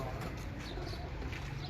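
Pigeons of a racing breed coo softly and continuously, with low murmuring calls blending into a steady ambient hum.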